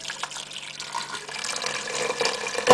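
Water pouring steadily into a cooking pot over mincemeat for stuffed marrow, a close, continuous splashing and rushing that builds slightly as the pot fills, with no talking.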